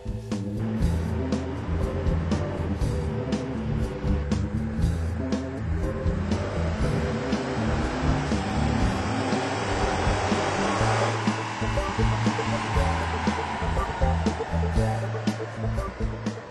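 A car exhaust, an aftermarket Gibson system running on a dynamometer, drones loudly and continuously under load, its deep pitch climbing as the engine revs higher, then settling back.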